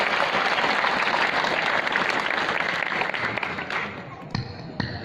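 A hall full of people at a Hindi-language gathering bursts into dense, loud applause. It thins toward the end into a few scattered, distinct claps.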